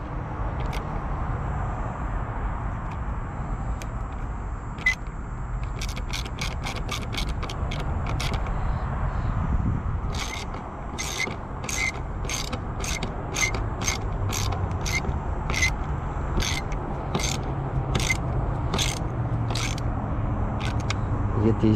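A ratcheting screwdriver tightens screws on a C4 Corvette interior plastic trim panel, making quick clicking runs of close, crisp ticks in bursts over a low background rumble.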